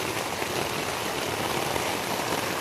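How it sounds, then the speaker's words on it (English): Heavy rain falling on concrete and a tent rainfly, a dense, steady, close hiss of pattering drops with no talking. "It's like really raining now in here."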